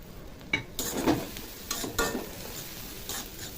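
Ginger and garlic paste fries with onion in a pan, a quiet sizzle broken by several stirring scrapes and utensil knocks spaced a second or so apart.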